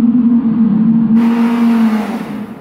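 An Audi R8 with quattro all-wheel drive accelerates on snow, its engine holding a loud, steady drone that swells as a rushing noise joins partway through, then eases off.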